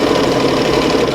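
A sewing machine stitches through a quilted notebook cover with vinyl sandwiched between fabric layers, a loud, steady mechanical whir with rapid rhythmic needle thumps, very close.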